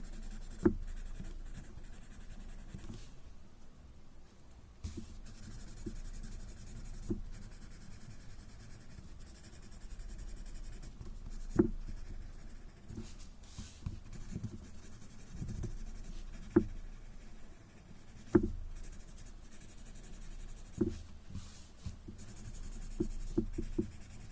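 A graphite pencil scratches steadily across a small drawing tile while inking a tangle pattern, a soft, close, continuous scraping with occasional light taps, quiet and without talk.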